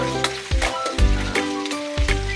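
A small amount of meat sizzles loudly in a pan for a mung bean stew, with steady frying crackle and a few louder bursts as it is stirred or shifted.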